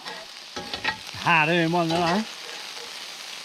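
Food sizzles and browns steadily in a frying pan at a riverside campsite, a constant crackling hiss beneath a brief spoken remark and a drawn-out voiced sound in the middle.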